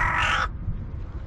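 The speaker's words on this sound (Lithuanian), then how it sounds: "Koks sunkus tavo varnos gyvenimas, ane?" A crow gives a single loud, harsh caw close by, lasting about half a second, followed by quiet.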